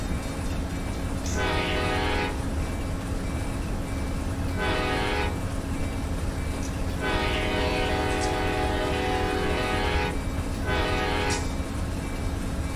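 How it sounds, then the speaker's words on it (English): An Amtrak Silver Star passenger train rolls by in Run 8 Train Simulator, its horn sounding in several long blasts over a steady rumble of rail noise and wheel clatter. "The other Amtrak's going to go around us, the Silver Star."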